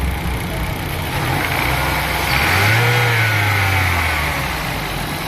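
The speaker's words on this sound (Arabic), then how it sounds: "المروحه اشتغلت اهي، المكنه صوتها ناعم الله اكبر بسم الله ما شاء الله اهو. الموتور داير اهو" An Opel Astra engine runs steadily with a smooth, even hum, rising briefly in a rev at mid-clip before settling back to a steady run.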